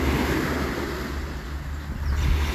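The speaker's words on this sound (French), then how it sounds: "J'ai demandé des vagues et là, ils m'ont envoyé des vagues" Ocean waves in a steady, broad wash of surf with a low rumble and some wind noise on the microphone, continuous and fairly loud with no talk.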